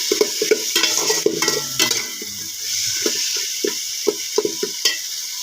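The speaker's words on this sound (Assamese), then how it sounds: "এয়া মছলাখিনি ভাজি আছো ৰঙচুৱাকৈ" Spices with turmeric and salt fry in a pan for a bottle gourd and fish head curry, a steady hiss under repeated metal spoon scrapes and clinks, close with no voices.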